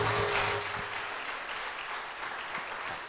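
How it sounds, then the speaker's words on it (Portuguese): A church congregation claps together during a worship service, a moderate wash of applause that stays fairly even for a few seconds. "Começar esse culto dando uma salva de palmas a Deus"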